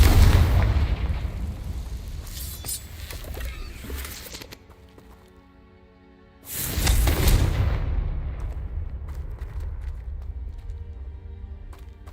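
A loud blasting-curse explosion in a Harry Potter video game bursts out after a brief lull, a broad boom that decays into a rumbling tail, with game ambience and effects before it.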